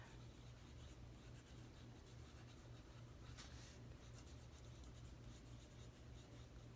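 A fountain pen scratches steadily across Leuchtturm 1917 notebook paper, a faint, close, continuous rasp of nib on page with no voices.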